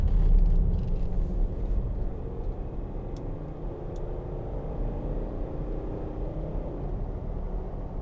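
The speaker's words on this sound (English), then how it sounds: "Just give it some gas coming up here, because the V8 sounds tremendous, even for a diesel." A 2009 Range Rover Autobiography's 3.6 TD V8 diesel pulls under acceleration, a deep continuous rumble heard from inside the cabin, steady and moderately loud with no voices.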